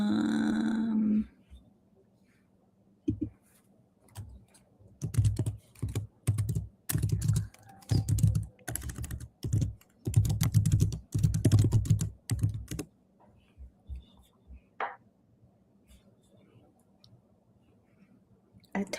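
Bursts of quick key clicks from a computer keyboard being typed on, loud and close, come in uneven runs separated by short pauses, with a brief murmur at the start.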